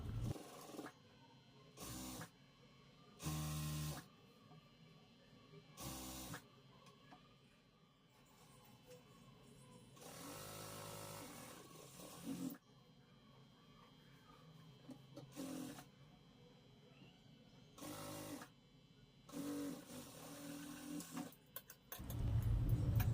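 Sewing machine stitching the side seam of a child's old silk skirt, short bursts of motor whir starting and stopping repeatedly, close and moderately loud in a quiet room.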